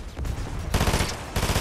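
Loud rapid bursts of submachine gun fire in an online shooter video game, two dense rattling volleys close together, the second starting abruptly after a brief quieter stretch.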